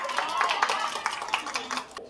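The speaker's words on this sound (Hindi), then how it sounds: "छाई को ज्यादा तालियां हो जाए एक बार" Zumba class participants clap together in a quick, uneven burst of hand claps, moderately close and lively, lasting a couple of seconds before stopping.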